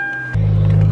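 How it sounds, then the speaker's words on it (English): A car's interior while driving produces a heavy low rumble that swells abruptly after a quiet moment into a loud, steady engine and road drone. "the car is probably so loud"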